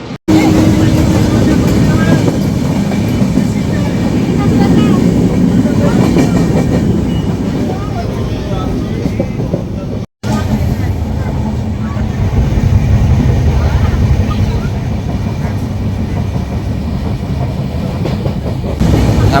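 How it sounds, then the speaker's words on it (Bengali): An Indian passenger train runs from NJP to Sealdah, with a loud continuous rumble and rattle of the carriage heard from inside, briefly cut off midway, and voices faintly under the noise. "আমরা যে ট্রেনে যাচ্ছি"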